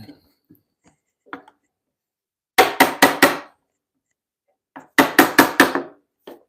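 Two quick bursts of sharp hammer blows on a wooden timber-frame mortise joint in a bed post, three or four strikes each, loud and close, separated by a few lighter taps and quiet.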